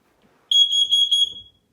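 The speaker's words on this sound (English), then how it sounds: "let's go ahead and get started the smoke alarm test" An FG 888D smoke alarm under test gives one loud, piercing, steady high-pitched beep lasting about a second, alone and close by.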